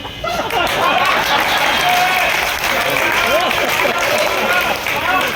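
An audience at a Hindi comedy poetry show breaks into sustained applause, a loud, dense wash of clapping that holds steady, with voices and laughter mixed in.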